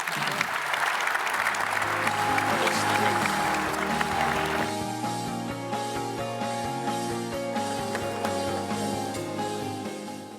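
Audience applause for a panel at a trade and manufacturing event, sustained clapping from a crowd heard steadily and loudly for the whole span, with music swelling beneath it partway through.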